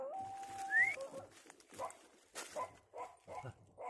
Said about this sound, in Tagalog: May nakita akong aso dito. Bagong panganak.